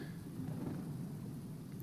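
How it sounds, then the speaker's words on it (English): Steady pouring rain with a deep rumble of thunder underneath, heard as ambient weather in the survival game Dead In Vinland, a constant soft hiss with low rolling booms and no voices. "It's pouring rain."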